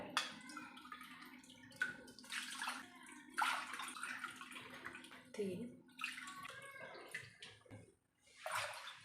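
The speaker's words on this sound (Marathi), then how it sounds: "आपल्याला पाच पटीने पाणी घ्यायचं आहे याच वाटीने" Water is poured into a pot from a bowl in short, uneven bursts, splashing fairly quietly, with brief pauses between pours.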